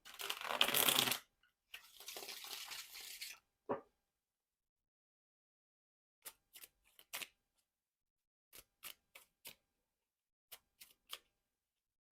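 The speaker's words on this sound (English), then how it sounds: "I'm gonna shuffle these clarifications and we'll hop right into it" A burst of papery riffling and rustling as tarot cards are shuffled, then quiet with scattered soft taps and clicks of the cards being handled close by.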